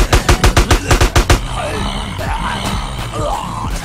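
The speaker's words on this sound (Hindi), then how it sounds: "ज़ॉम्बीज़ के साथ साथ गैंगस्टर्स भी फायरिंग कर रहे हैं हमारे ऊपर।" Rapid burst of about nine loud, evenly spaced gunshots from gangsters in a GTA San Andreas zombie mod, followed by a wash of game noise with warbling tones and scattered faint pops.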